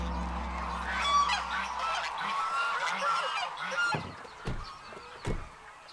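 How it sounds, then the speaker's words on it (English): Lion-head geese, China's largest goose breed, honk in a flock: a run of overlapping nasal calls at moderate distance, followed by several sharper, spaced single honks. "the lion-head goose"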